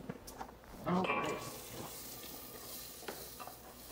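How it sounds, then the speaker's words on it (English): Peppers and onions sizzle and crackle in a hot pan over a propane burner, a steady frying hiss with a louder burst as the vegetables go in and are stirred, while a person talks nearby. "let's get our peppers and onions in there, and we're going to get them smooth as sizzle"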